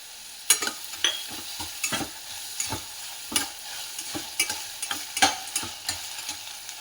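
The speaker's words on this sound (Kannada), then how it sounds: "ಆಮೇಲೆ ಶುಂಠಿ ಬೆಳ್ಳುಳ್ಳಿ ಪೇಸ್ಟನ್ನು ಕೂಡ ಸೇರಿಸ್ತಾ ಇದ್ದೀನಿ" Ginger garlic paste fries in ghee in a pan, a low sizzle under repeated sharp clinks and scrapes of a spoon stirring, close and without voices.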